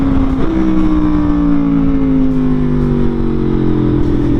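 Aprilia Tuono Factory motorcycle engine idling and revving steadily, a loud continuous drone with a tone that slides slowly downward, with no voices.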